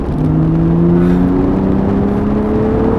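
A Porsche 911 (991) Carrera 4S MK2 engine drones loudly and close, its tone rising smoothly as it pulls under acceleration, with no voices over it.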